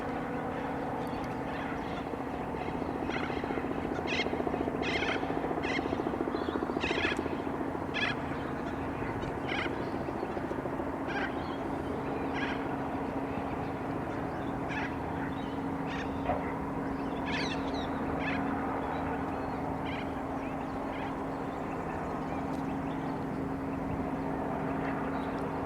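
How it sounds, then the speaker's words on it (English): The final Qantas Boeing 747 flies past over the Illawarra, a low, sustained distant jet rumble that swells gently, with nearby birds calling repeatedly on top. "So this is our very last Boeing 747 in flight"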